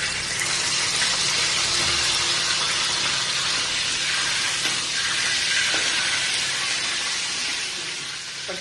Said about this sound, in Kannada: ಇದಕ್ಕೆ ನಾನೀಗ ಕಡಿಪತ್ತ ಹಾಕ್ತಿದ್ದೇನೆ.